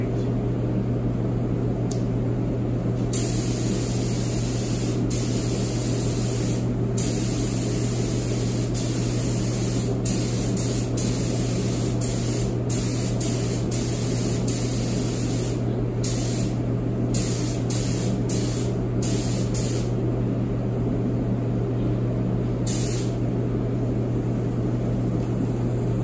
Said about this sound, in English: I'm gonna spray the handlebars first just to show, make sure my gun's right